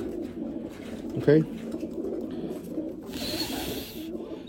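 Pigeon cooing close by, a short throaty burst over steady background noise, with someone speaking briefly nearby.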